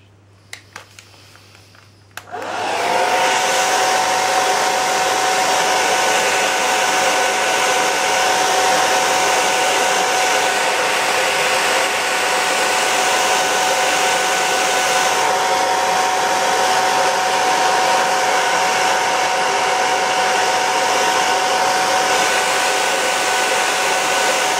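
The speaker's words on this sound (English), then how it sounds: "There, just dry that with a hairdryer a bit." A hair dryer switches on after a couple of seconds of quiet and then blows steadily at close range, drying paint on a pebble with an even, loud whooshing hum that holds without a break.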